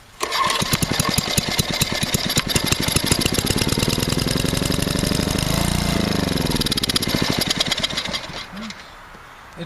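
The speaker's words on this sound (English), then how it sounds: "Now let's see if I can start this 3/4 choke. Try full choke." A small engine is cranked on full choke and catches, running rough and loud with a fast, sputtering putter that rises, surges and then fades near the end.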